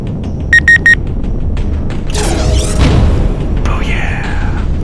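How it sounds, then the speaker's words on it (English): Video game torpedoes launched in a double volley and exploding: after a few short electronic beeps, two sweeping whooshes rise and fall, then a rumbling blast over a steady loud background of game sound and low rumble. "Double torpedoes."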